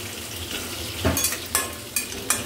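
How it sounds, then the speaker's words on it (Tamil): Onions and curry leaves sauté in a pan for a Maasi karuvadu chambhal, a steady close sizzle with several brief scraping stirs breaking through, no talking. "வெங்காயமும் கருவேப்பிலையும் போட்டிருக்கேன். கொஞ்சம் வதங்கட்டது."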